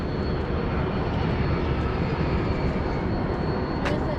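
An airplane landing fast at an airport gives a steady, loud roar of engine and rushing air that holds evenly throughout, with no voices.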